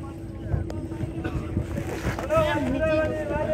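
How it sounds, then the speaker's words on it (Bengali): A boat travels along the Bidyadhari river in the Sundarbans toward Birajmoni, with a steady low engine drone, wind buffeting the microphone and water washing past, while people talk faintly nearby. "আমরা এখন বিরাজমণিতে যাচ্ছি এই নৌকাটাতে করে"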